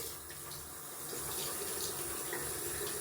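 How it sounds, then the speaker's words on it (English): Water from a tap runs steadily, rinsing shaving soap off a razor at a sink, a continuous close splashing stream that grows slightly fuller partway through. "soap is still rinsing easily off the razor"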